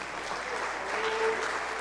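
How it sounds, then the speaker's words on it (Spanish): A church congregation on a morning service claps for the Lord, a soft, even wash of applause at moderate distance, steady throughout with a faint tonal murmur underneath. "Si usted gusta, le puede dar un aplauso al Señor en esta mañana."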